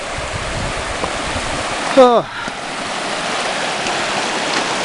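Hyndman Creek, a mountain stream near the start of the trail up Hyndman Peak in Idaho, rushes with a steady, broadband wash of water throughout, with a brief spoken word partway through.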